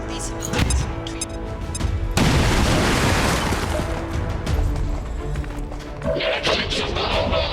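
Frag grenade blast in XCOM 2, a sudden loud booming burst with a long rumbling crash that fades over several seconds, amid game effects and voices.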